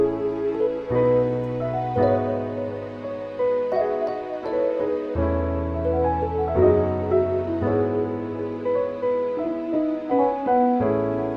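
An electric piano playing the chord suitcase preset with chorus, delay and reverb, sustained mellow Rhodes-style chords changing every second or so in a steady progression, warm and unaccompanied.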